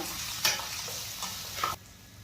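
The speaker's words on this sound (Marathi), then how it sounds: "आता आपण त्यामध्ये घालूयात टोमॅटो टोमॅटो ही छान परतून घ्यायचा आहे आपल्याला" Tomatoes are stirred and sautéed in a pan for Maharashtrian-style rava upma, a soft, steady sizzle broken by a few scraping stirs of the spoon before the sound suddenly drops away.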